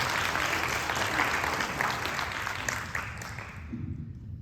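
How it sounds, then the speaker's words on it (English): An audience at a high school Wall of Fame ceremony gives a committee member a round of applause, dense sustained clapping that fills the room and then thins out toward the end. "So let's give her a round of applause."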